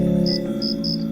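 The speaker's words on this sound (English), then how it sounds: "That familiar, persistent chirp" Crickets chirping on a summer evening: a steady, loud insect drone with three distinct high chirp bursts repeating at a regular pulse, no voices present.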